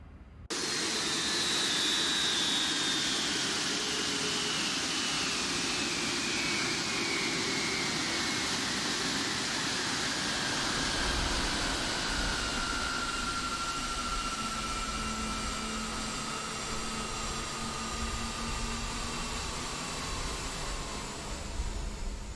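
Airbus A350 jet engines shutting down in X-Plane 12, a loud steady turbine roar with whining tones that slowly slide downward as the engines spool down, continuous and alone.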